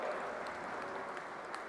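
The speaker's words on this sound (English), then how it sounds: "A big round of applause once again" Audience applause for a guest of honor at an endowment lecture valedictory function, a steady wash of many hands clapping, fairly faint and continuous, with no clear voices over it.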